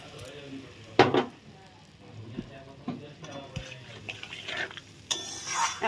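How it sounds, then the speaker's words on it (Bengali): Spice paste sizzles in a pan for a pabda fish curry, stirred with scraping strokes and loud clanks of a utensil against the pan, fairly close, no talking. "এখন মশলাটা ভালো করে কষিয়ে নেব।"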